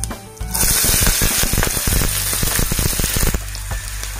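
Green onion tops hit hot oil with cumin and burst into a loud, steady sizzle with crackling pops, close and continuous for several seconds.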